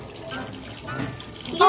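Water runs and splashes during a 'still water' trick experiment, a brief steady trickle with a short spurt near the end and a faint voice partly mixed in.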